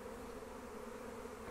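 Honeybees fanning pheromone scent out of a backyard hive in December make a steady, dense buzzing drone, close and continuous, with no voices.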